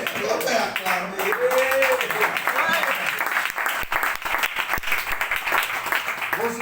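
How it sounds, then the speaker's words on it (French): Church congregation in Guadeloupe clapping and cheering, dense sustained applause with shouts and voices mixed in over a musical backdrop. "Hey, on peut acclamer."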